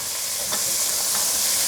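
Drained beans are stirred into an oxtail casserole pan, with a steady close sizzle and frying hiss and a few soft scraping strokes of the spoon, no talking over it.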